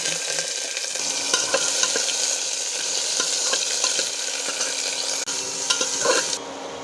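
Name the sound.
chopped vegetables added to oil with cumin and bay leaf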